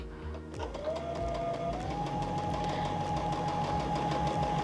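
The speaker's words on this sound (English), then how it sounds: "So now I'm going to stitch." A pedal-driven sewing machine stitches through fabric, revving up and then running in a smooth, steady, rapid mechanical rhythm, loud and close, with no voices.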